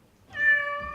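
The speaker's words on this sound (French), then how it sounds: "Oh, mais oui, j'entends un chat." A cat gives a single clear, close meow, drawn out and tonal, with no other sounds around it.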